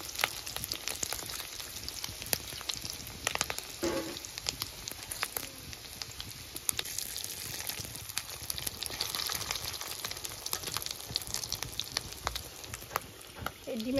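Fish roe frying in a pan with whole cumin and a bay leaf: a steady, close crackle and sizzle of hot oil that continues throughout, with faint scraping.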